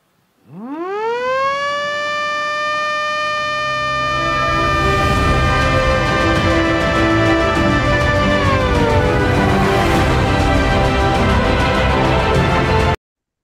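A loud, sustained siren, sounded at a ceremony with a plaque signing during Indonesia's election results announcement, rises from low to a steady wailing tone and holds for several seconds before cutting off abruptly.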